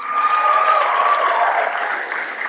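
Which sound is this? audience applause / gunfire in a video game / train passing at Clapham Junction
audience applause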